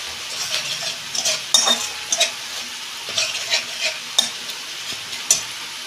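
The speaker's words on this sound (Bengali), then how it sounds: "আমি এবার আদা রসুনের পেস্ট দিচ্ছি। এই যে 1 চামচ আদা রসুনের পেস্ট" Ginger garlic paste spoon-stirred into onions and tomatoes frying in a pan for a cauliflower-potato fish curry, giving a steady close sizzle broken by repeated scraping stirs and light clinks of a spoon against the pan.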